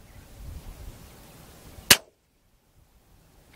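One sharp crack from a Tikka T1x rifle fired outdoors at a target cuts through a soft wind rumble and is followed by near silence.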